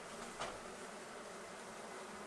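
Bees buzz as a low, steady hum while a hive is cut out of a wall, faint and continuous with one brief louder rise near the start and no voices.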